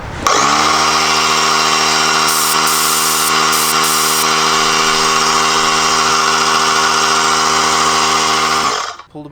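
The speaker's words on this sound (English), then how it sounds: "Our little travel air compressor." Small portable travel air compressor running from a portable power station, a loud steady motor drone with strong harmonic hum, continuous for about nine seconds before winding down abruptly at the end.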